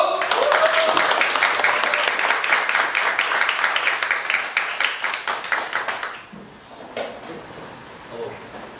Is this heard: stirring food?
no